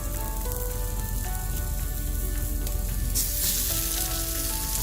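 A burger patty sizzles steadily in a hot pan, a dense, continuous frying hiss that stays loud and even throughout, with a brighter burst of crackle near the end and no voices.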